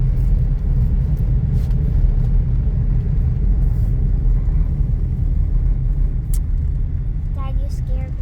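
A 2021 car driving through Cebu City rush hour traffic, a steady low engine rumble and road noise from inside the cabin, with a few faint horn-like chirps near the end.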